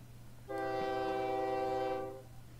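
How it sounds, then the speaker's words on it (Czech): A train in the OpenTTD railway video game sounds a long, steady horn of about one and a half seconds, clear and fairly loud over a low background hum, then falls silent. "Tady jezdí taky nějaký ten vláček."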